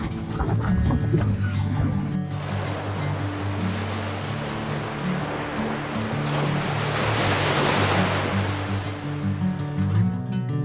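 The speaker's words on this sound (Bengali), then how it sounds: "আমরা এখন এই বিচের ধারে বসে সময় কাটাচ্ছি" Sea waves roll and crash steadily at a Pondicherry beach while wind buffets the microphone, a loud continuous wash of surf that swells toward the end, with a low steady hum beneath it.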